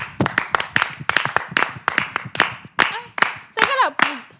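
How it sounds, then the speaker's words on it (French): Audience clapping in sharp, uneven bursts over a few seconds in a French live broadcast, close and loud, with voices and exclamations mixed in toward the end. "Allez, oui. Applaudissements."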